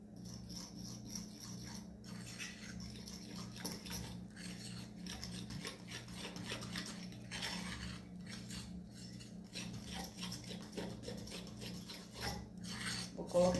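Sweet potato dough being mixed with tapioca starch in a bowl, with a steady rhythmic scraping and rasping of utensil against the bowl, close but quiet, running continuously over a low hum.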